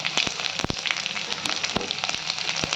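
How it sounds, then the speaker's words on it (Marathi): Cumin seeds and garlic crackling and sizzling in hot oil in a kadhai, a steady close frying hiss dotted with sharp pops, with no talking. "गरम झालेले तेल तर टाकून घेऊयात आपण पहिलं त्याच्यात जिरे आणि आता लसूण टाकूयात आपण"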